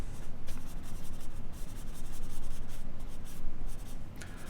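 A blending stump rubs back and forth over graphite pencil marks on drawing paper, softening a dark sky. The scratchy, continuous friction stays close and steady, with short strokes repeating throughout and nobody speaking.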